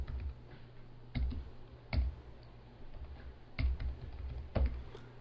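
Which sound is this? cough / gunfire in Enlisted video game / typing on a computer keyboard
typing on a computer keyboard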